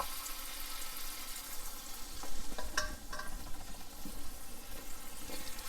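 Fish patty frying in butter in a pan, a steady close sizzle with brief scraping taps of a spatula shaping the patty.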